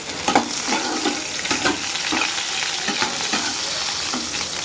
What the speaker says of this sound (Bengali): প্রথমে আলুটা ভেজে নিচ্ছি, মধ্যে একটু হলুদ দিয়ে দিলাম